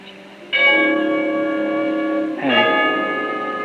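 Musical bell chimes ring out clearly and loudly, a sustained tonal peal that swells, then is struck again for a second ringing.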